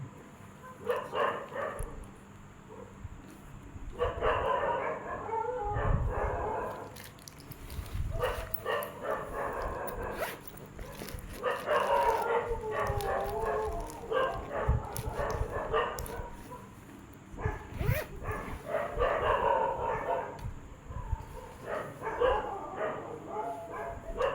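A dog barks and yips repeatedly in bursts over a noisy room, close and fairly loud, with some whimpering between barks and faint voices in the background.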